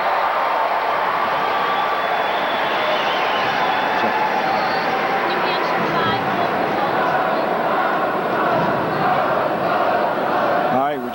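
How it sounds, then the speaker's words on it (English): Arena crowd at an NCAA ice hockey game in 1990, Lowell Chiefs at Maine Black Bears, roaring loudly and steadily for the full stretch, a dense wash of cheering and babble with no letup. "that's what the crowd was going crazy over"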